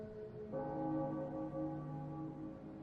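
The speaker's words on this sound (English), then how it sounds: "Perfect with that bell sound." A deep, resonant bell in the video game Bloodborne strikes once about half a second in, and its sustained tones ring out and slowly decay over a low background hum.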